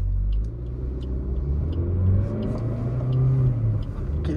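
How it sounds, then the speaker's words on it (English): A Maruti Swift ZXI+ hatchback accelerates toward 80 km/h ahead of a brake test, heard from inside as a steady low engine drone with rising pitch and road rumble, continuous and moderately loud. "we'll reach 80 kilometers an hour, then we'll brake"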